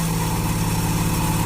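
Tiny homemade campervan engine running steadily with a loud, continuous buzzing drone and rhythmic low pulsing as the little vehicle pulls away, close and alone.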